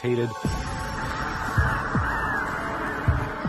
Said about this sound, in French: les oiseaux sont devenus très agités